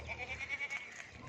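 A male Makhi Cheena goat gives a wavering, quavering bleat that pulses for about a second before trailing off. It is moderately quiet, with some background noise and no speech.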